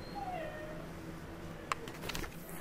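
A cat gives a soft, drawn-out meow, followed by a few faint higher mews, close by in a quiet room with no talking.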